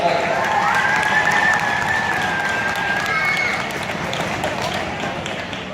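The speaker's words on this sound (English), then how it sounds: "So let's give a big round of applause for our parents here, kids." A crowd of kids and adults at a camp applauding their parents, continuous loud clapping with cheering and chatter, a high whistle-like tone running through it.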